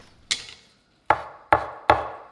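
A meat cleaver chops through scallion stems on a board: four sharp, close, loud thunks, the first alone and then three in quick succession, with no voices.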